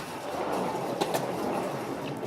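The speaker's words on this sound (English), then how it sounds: "Oh, I love the train." A miniature railway train running by, a steady mid-range rumble with a few faint rail clicks, close and continuous, with no speech.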